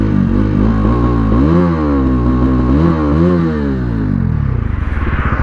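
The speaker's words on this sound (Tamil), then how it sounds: "அண்ட் பார்த்திங்கன்னா எக்ஸாஸ்ட் நோட் திரும்பி கேளுங்க." Bajaj Dominar 250 BS6 motorcycle, modified, revving its exhaust: a loud, close engine note that climbs and falls through two rising revs, then settles into a lumpy idle with rapid pulses at the end, with no talk.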